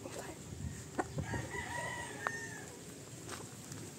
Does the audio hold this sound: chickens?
yes